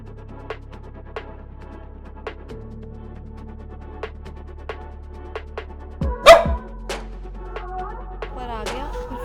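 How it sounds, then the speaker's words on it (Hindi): Dog barking repeatedly at a visitor in the house, sharp isolated barks at a steady pace, with a louder cluster of yips and whimpers midway, heard close indoors. "फिर भी भौंक ही जा रहा है क्योंकि इसको टॉलरेट नहीं होता कि कोई घर पे आया हुआ है"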